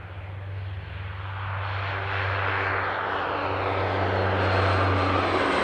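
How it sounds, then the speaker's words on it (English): A fixed-wing airplane takes off from Amsterdam Airport, its engine roar swelling steadily from a loud rumble to a fuller, brighter blast with a low droning hum underneath, continuous and close throughout. "It's just like a normal takeoff"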